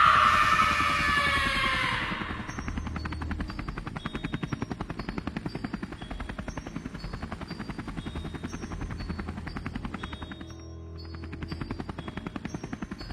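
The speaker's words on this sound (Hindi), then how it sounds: "बाबा गुल्ली बुल्ली सोन अपनी अपनी हेलीकॉप्टर में बैठकर उसके पीछे पीछे जाते हैं।" A helicopter's rotor thumps in a steady rapid beat, loud and continuous, after a brief burst of broadband whooshing at the start.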